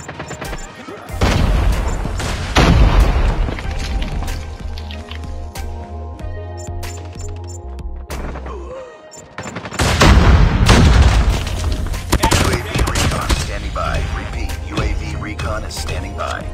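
Grenade blast and gunfire in the mobile shooter game Call of Duty Mobile, with heavy booming bursts and rapid crackling shots that come in loud dense waves, briefly dipping before another strong burst.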